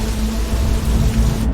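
Heavy rain pours down in a steady, dense hiss with a deep low rumble beneath, loud and unbroken.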